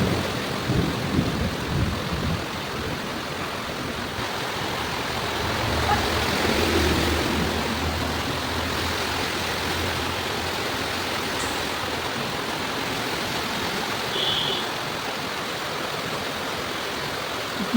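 Heavy rain pours steadily during a flood, a dense, continuous hiss of falling water close by and unbroken throughout, with a slight swell in the middle.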